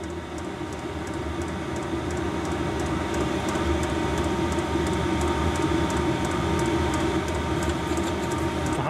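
A newly fitted Chinese diesel heater with battery backup runs with a steady whirring hum and a fast, regular ticking on top, loud and close, with no talk.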